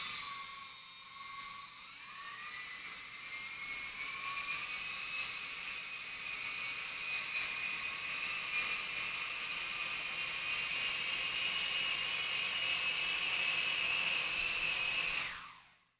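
Attop YD-A8 quadcopter drone with its motors spinning up, a steady high-pitched whine that climbs in pitch and holds loud and close before cutting off abruptly at the end.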